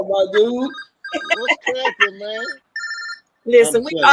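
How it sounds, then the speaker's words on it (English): A mobile phone rings at a live gospel music show, its electronic tone sounding in short bursts between and under loud stage talk from a man on a microphone, with audience noise around. "It's not me. That's my phone."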